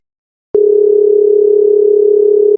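A phone call rings out unanswered, heard as one long, loud, pure electronic tone that starts abruptly after silence and holds steady for about two seconds.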